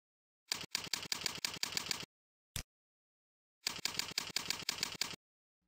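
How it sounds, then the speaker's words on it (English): Rapid bursts of keyboard key presses as a password is typed in, two clusters of quick, even clicks separated by a single isolated tap and a pause of silence. "type it in these two boxes."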